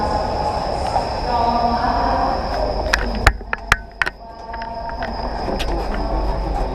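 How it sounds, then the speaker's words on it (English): A train in India rumbles steadily nearby, with sharp metallic clanks and clicks of the cars partway through, while faint voices sound over the noise. "We're getting on the train."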